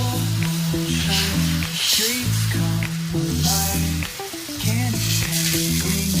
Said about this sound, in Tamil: வாங்க ஃப்ரெண்ட்ஸ், தோசை ஊற்றி பார்த்துடலாம்.